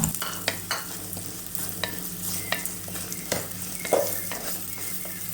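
Finely chopped onion dropped into hot oil with softened garlic and ginger for a Kerala-style dal curry, sizzling steadily while a spoon stirs and scrapes the pan in repeated taps.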